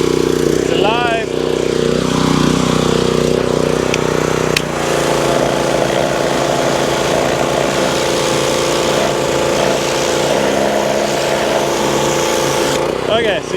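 A small pull-start engine with the choke on sputters to life, then settles into a loud, steady running drone up close, with a brief sharp change in tone partway through and a voice speaking over it.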